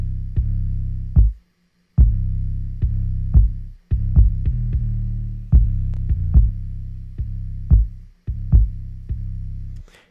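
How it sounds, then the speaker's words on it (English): Deep kick drum thumps in a steady pattern with a booming bass line that ducks and swells after each hit, the pumping sound of sidechain compression, no vocals. "you'll hear the difference between what a sidechain, quote unquote, sounds like with the bass and the kick"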